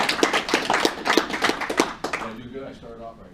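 An audience at a speaking event bursts into rhythmic, fairly close applause that fades out after about two seconds, with someone talking over it throughout.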